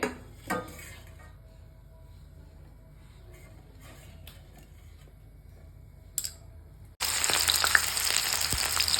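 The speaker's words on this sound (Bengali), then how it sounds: "সবজিগুলোকে আর চাউমিনটাকে ভাজার জন্য" Vegetables and chow mein fry in a small amount of hot oil in a home kitchen. Quiet clinks of utensils come first, then a loud, dense sizzle bursts in abruptly and continues to the end.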